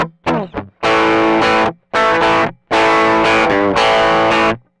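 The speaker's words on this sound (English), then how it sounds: "it doesn't sound so good because it's going through without any cabinet sound at all" An electric guitar played through a NuX Cerberus pedal with no cabinet simulation gives loud, harsh distorted chords and bends in several sustained bursts separated by short pauses, with no talking.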